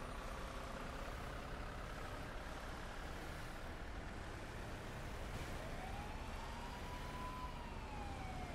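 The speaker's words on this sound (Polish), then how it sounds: "No i znowu syreny." Emergency vehicle sirens ring out in the Fernbus Simulator bus-driving game, a rising and falling wail over a steady engine and road rumble that lasts the whole stretch at moderate, fairly distant level.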